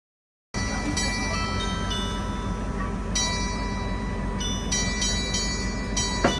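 The Sagano Romantic Train rolls toward Kameoka station with a steady, close rumble of wheels and carriage, while faint high ringing tones come and go over the continuous rolling noise.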